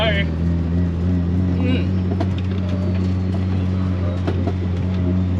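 A Nissan 180SX engine idles at low revs, low and steady with a constant deep hum, joined by faint rattles and a brief whine near the start.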